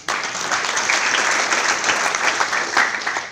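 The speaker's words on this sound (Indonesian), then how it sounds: "Aplaus buat PT BES." An audience at an indoor business seminar breaks into sustained, even applause, a dense wash of many clapping hands heard up close, with no voices over it.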